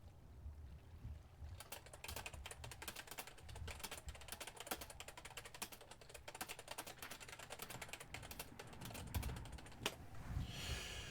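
Rapid typing on a faulty computer keyboard that keeps entering the wrong letter, a dense run of sharp key clicks held at steady loudness for about ten seconds, close to the mic with no talking.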